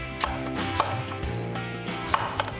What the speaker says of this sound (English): sort of chopping it, doing it that way